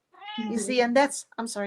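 A house cat meows loudly and close, a drawn-out wavering call followed by a shorter one, overlapping a woman's speech.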